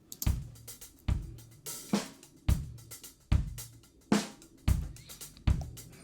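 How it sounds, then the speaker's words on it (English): A full drum kit plays a steady groove through an unprocessed drum bus, kick and snare hits landing in a regular pattern with cymbals ringing between them. "So this is the sound of the drum bus without these plugins."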